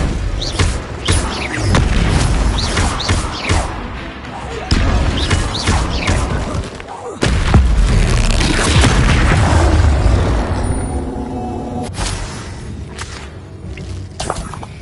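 Spell blasts and explosions from the Hogwarts Legacy video game burst out loud and dense, with booms, whooshes and impacts crowding together in rapid bursts while a voice speaks over the combat.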